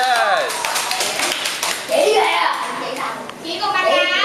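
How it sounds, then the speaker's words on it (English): Children clapping for a boy named Ben in a classroom: scattered, uneven small-hand claps mixed with excited kids' chatter and an adult voice, close and lively throughout. "everybody clap for Ben"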